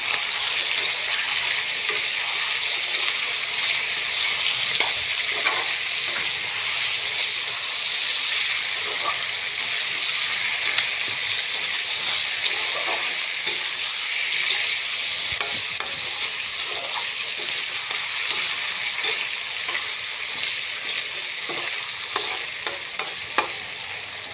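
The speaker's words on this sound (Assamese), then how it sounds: "এতিয়া ইয়াত কেপচিকাম আৰু বিলাহীখিনি ঢালি দিম আৰু অলপ লৰাই থাকিম।" Capsicum and tomato sizzle and hiss steadily in a hot pan as they are stirred, with frequent sharp clicks and scrapes of the spoon against the pan throughout.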